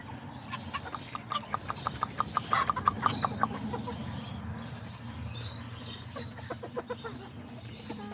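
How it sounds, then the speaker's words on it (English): Five small chickens and two little roosters in a pen cluck in quick repeated bursts, a busy run of short notes that swells and fades, with a low voice talking underneath. "I got 5 little chickens and 2 little roosters in here."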